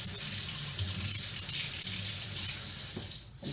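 Kitchen tap running steadily while an orange peel is washed out under it, a close, constant stream of water with slight splashing changes, briefly dipping near the end.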